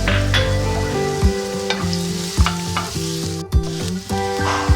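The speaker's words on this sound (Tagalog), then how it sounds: "Ilalagay na po natin yung sibuyas. Igisa po natin." Chopped onions sautéing in a pan for a Filipino pork hock kare-kare, with a steady loud sizzle broken by several sharp scrapes and clatters of a spoon stirring, no talking.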